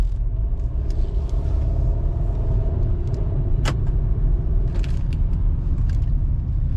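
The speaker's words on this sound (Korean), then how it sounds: "네, 한번 시운전 좀 해보도록 하겠습니다." Used car running on a test drive after inspection, a steady close low rumble of engine and road noise throughout, with a brief faint clink near the middle.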